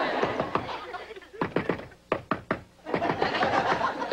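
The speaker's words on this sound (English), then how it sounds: "Did I hear a knock?" Sharp knocking on a door during a sitcom scene, a quick run of raps in the middle with voices and audience chatter around it.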